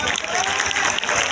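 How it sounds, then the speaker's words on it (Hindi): Students in a coding class clapping together, a dense, steady burst of applause filling the room for a short moment, with no talk over it. "चले तालियां"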